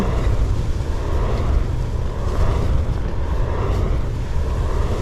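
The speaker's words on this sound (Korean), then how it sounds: "아 바람 엄청 부네요 역시 바람의 언덕" Strong wind roars continuously over an exposed hilltop at Seonjaryeong during a backpacking camp, buffeting the microphone with steady, loud gusts and no talk.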